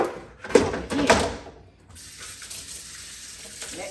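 A kitchen sink tap gushes loudly at first, then settles to a softer, steady stream while items are washed during fish cleaning.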